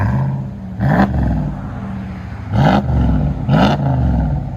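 A RAM Power Wagon's straight-piped 6.4L HEMI V8 rumbles at idle close by and is blipped three times, each short rev bursting into a loud raspy roar before dropping back to idle.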